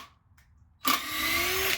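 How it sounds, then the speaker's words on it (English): After a near-silent start, an impact driver driving screws abruptly whirs to life, a loud, sustained high-pitched drive that holds steady to the end. "if you're driving a lot of screws"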